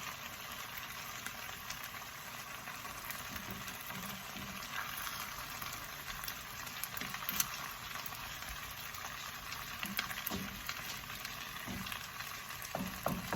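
Scrambled egg fries in a pan, a steady soft sizzle and crackle lasting throughout at an even, moderate level with faint occasional stirring scrapes and no voices.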